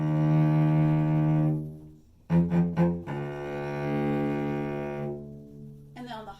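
Cello bowed on its low strings: long sustained deep notes with a rich harmonic stack, a brief pause, a few short strokes, then another long held tone, played solo and close.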